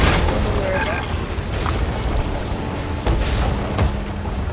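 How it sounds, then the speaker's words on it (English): In a pirate ship video game, an island cannon fires at sea, giving a couple of dull booming blasts over a constant rumble of wind and waves, with people talking over the action. "It's an island cannon, don't worry."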